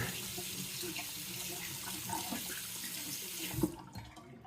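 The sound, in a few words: tap water running to rinse a razor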